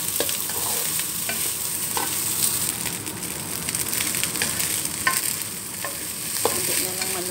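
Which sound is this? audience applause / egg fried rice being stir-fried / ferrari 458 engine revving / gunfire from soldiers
egg fried rice being stir-fried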